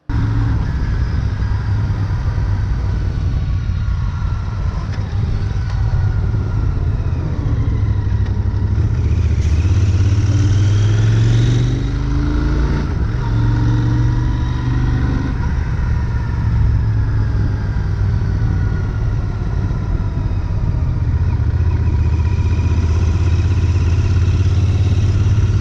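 A Royal Enfield Continental GT twin-cylinder motorcycle engine runs steadily and close, with a throbbing low drone that briefly swells and shifts in pitch midway as if revved, then settles back to an even idle-like hum.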